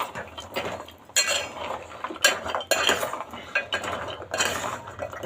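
A spoon scrapes and clinks against a pan as wheat-flour gavvalu are stirred into hot jaggery syrup, with irregular metallic knocks and rustling, close up and without speech.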